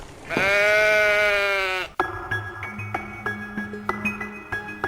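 A single long, loud sheep bleat wavers for over a second, then gives way to a rhythmic plucked musical pattern.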